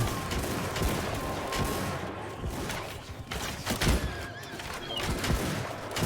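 Musket volleys crackle from troops in a Mount & Blade 2 battle, Shokuho mod. Rolling bursts of gunfire and thuds sit inside a dense, steady battlefield din of clashing and distant shouting.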